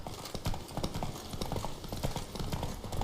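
Roach, Geralt's horse in The Witcher 3: Blood and Wine, gallops with a steady, close clip-clop of hooves over a rushing, noisy background, continuous for the whole stretch.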